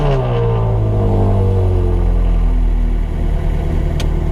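A Ferrari fires up behind a warehouse, its engine roaring loudly and then settling into a strong, steady rumble with falling pitch, continuous and close.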